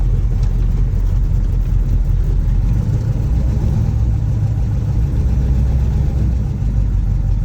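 A 1972 Dodge Charger engine runs loudly and steadily close by, a dense low rumble that holds constant throughout with no talk.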